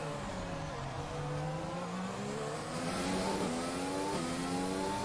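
A Formula 1 race car engine whines in the video game F1 2020, its pitch rising and falling through gear changes in a continuous loud, close drone behind a safety car period.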